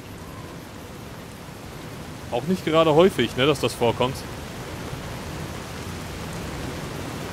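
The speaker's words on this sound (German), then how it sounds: "Es regnet." Steady, even rain hisses across the whole stretch in Fallout: New Vegas, a constant wash of falling water while someone talks briefly in the middle.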